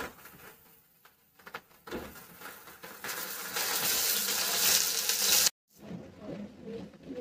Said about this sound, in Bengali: এবার আমি ভেন্ডিগুলো ভেজে নেব